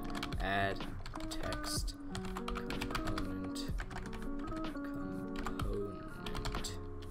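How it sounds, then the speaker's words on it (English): Typing code on a computer keyboard, a quick run of light key clicks and taps close by, with someone talking over much of it. "and then we type in"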